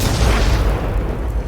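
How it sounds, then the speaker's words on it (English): A loud, deep boom from an explosion in a Red vs. Blue episode rolls on as a sustained low rumble for over a second, with no voices over it. "Explosion."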